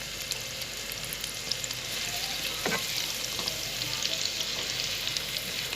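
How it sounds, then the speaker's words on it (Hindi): Onions fry in a pan over low to medium flame, a soft continuous sizzle with light crackles and one brief stirring scrape, alone without voices. "प्याज को भी अच्छी तरह से फ्राई करेंगे"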